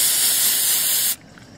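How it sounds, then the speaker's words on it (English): A steady, close hiss of CA glue activator spray for about a second, then it cuts off abruptly into near silence. "spray it with activator"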